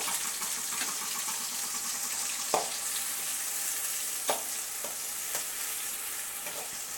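Onions sautéing in a pan for crab gravy, a soft continuous sizzle with a few sharp spatula knocks against the pan spaced out over several seconds, no speech.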